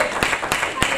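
A church congregation claps hands in a worship service: three sharp, evenly spaced claps over a low murmur of voices.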